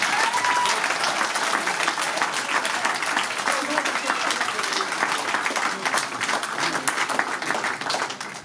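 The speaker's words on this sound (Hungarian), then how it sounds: "ezért jár egy taps Bettinek." A crowd at a village grape-harvest festival and ball in Érsekcsanád, Hungary, applauds steadily and loudly throughout, dense clapping with no break.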